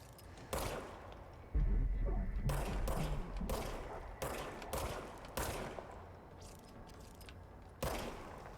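Gunfire from a gun in the video game Control, heard as several sharp bursts and single shots spaced irregularly, with a heavier sustained burst near the start, fairly loud over a quiet game background.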